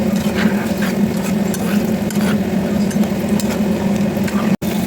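Turmeric, dried chilli, cumin and coriander powders frying in a pan for a fish curry, a steady close sizzle with stirring scrapes throughout and a brief break near the end.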